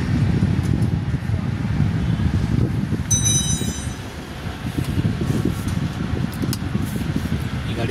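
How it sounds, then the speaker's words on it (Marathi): A Renault Kiger automatic fitted with a CNG kit runs on petrol, its engine giving a steady, close low rumble that holds evenly throughout with no voices. "ही गाडी जी आहे पेट्रोलवरती स्टार्ट झालेली आहे"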